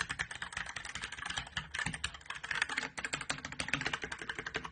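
Rapid, loud clacking of typing on a Blitzwolf BW KB1 mechanical keyboard, with dense, steady keystrokes running nonstop and close up, and no talking.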